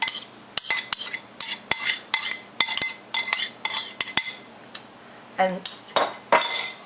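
Shredded gluten mock turkey is stirred in a dish with garlic oil marinade, producing a regular run of utensil clinks and scrapes against the bowl, loud and close, with a brief spoken word.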